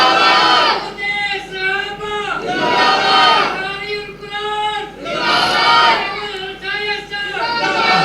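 A large crowd at a religious Muharram gathering chants slogans in loud, unified bursts. Many voices rise and fall in repeated rhythmic calls that fill the space with almost no pause between them.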